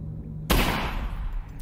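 A single sharp gunshot from a pistol in the VR game Half-Life: Alyx cracks loudly after a brief quiet stretch, followed by a rumbling, reverberant tail that slowly fades.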